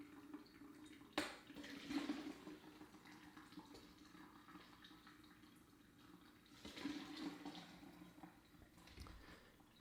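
Roasted vegetable stock poured slowly through a strainer, a soft, faint watery trickle and splash that rises in two brief louder surges, with quiet liquid movement between them.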